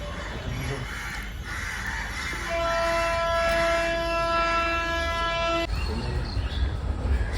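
A train arrives at Cuttack railway station, sounding a long, steady horn blast for about three seconds over rumbling platform and engine noise, with people talking in the background.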